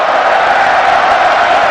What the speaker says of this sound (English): And the crowd in a celebratory mood here.